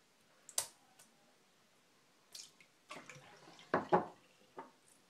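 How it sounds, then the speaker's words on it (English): Water is poured onto a shaving soap puck in an Omega 10065 brush bowl, giving faint scattered drips, splashes and small clicks in a quiet room, a couple of them briefly louder. "I like blooming my puck by putting some water in here."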